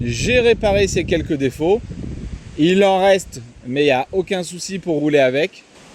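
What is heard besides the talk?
No everyday noises stand out.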